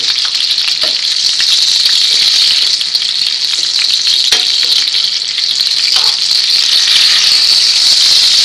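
Eggplant slices frying in oil in a pan, a steady loud crackling sizzle that holds the whole time with a few small pops and stirring knocks, and no talk.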